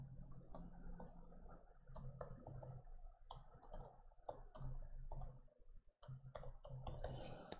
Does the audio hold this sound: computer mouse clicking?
yes